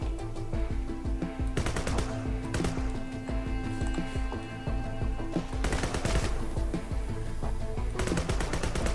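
A crossbow fires bolts again and again in the Sword with Sauce video game, quick mechanical shots that come in dense bursts over a busy background of game sounds and music.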